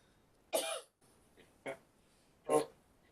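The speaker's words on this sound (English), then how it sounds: "I coughed through that." Three short, sharp coughs spaced apart, close to the microphone, the middle one softer, with quiet pauses between.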